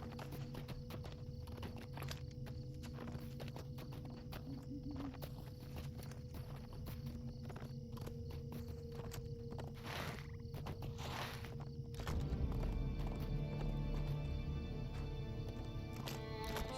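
Horse hooves clip-clopping in a steady walking rhythm while riding through the Lord of the Rings Online game world, close and even, with a background music bed shifting partway through.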